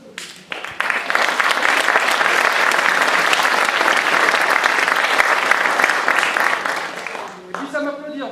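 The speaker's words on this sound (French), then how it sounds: "Et puis ça m'applaudit en plus." A large crowd applauds steadily for several seconds, dense and loud, then the clapping fades and a voice begins speaking at the very end.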